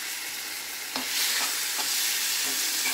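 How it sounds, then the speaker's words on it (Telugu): Lemon chutney being mixed into rice, a soft continuous hiss with several short scraping and clacking stirs of a spoon against the vessel, heard close with no talking. "నిమ్మకాయ చట్నీ అందులో వేసి కలుపుదాం"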